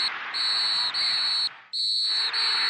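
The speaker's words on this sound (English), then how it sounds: "you can hear those whistles" Referee whistles sound at the end of a football match. The long, shrill blasts are repeated several times with short breaks between them and ring out over a steady crowd noise.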